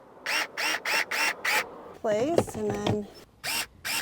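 A Fanttik S1 Pro electric screwdriver with a magnetic tip whirs in a series of short, even bursts, then falls silent while a voice speaks, before two more quick bursts follow close by.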